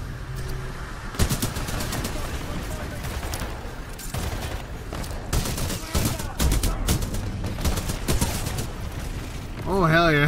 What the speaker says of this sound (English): Heavy machine gun it is!